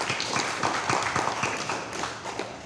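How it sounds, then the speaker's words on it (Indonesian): An indoor audience at a Bawaslu Kebumen election-supervision coordination meeting in Karanggayam claps together, making a dense, fairly loud patter of many hands with slight rhythmic pulses throughout. "Mari kita kasih aplaus kepada mereka."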